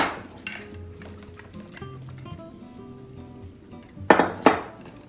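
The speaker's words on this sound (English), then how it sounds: "So I'm going to put them all in a bowl, shake them up" Rose petals coated in foamy egg white shaken in a bowl, giving light clinks and tapping that end in a louder burst of two or three rattling knocks near the end.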